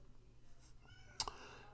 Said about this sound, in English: I have a cat in the room